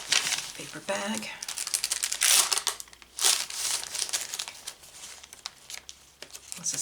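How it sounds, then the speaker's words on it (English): Crisp crinkling and rustling of a paper bag being handled, in short bursts, close up, with a voice speaking briefly. "Paper bag."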